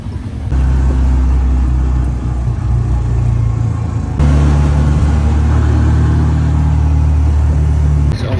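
A motorized tricycle engine drones steadily through a ride, a loud, continuous low rumble with a slight shift in pitch partway through, and no talking.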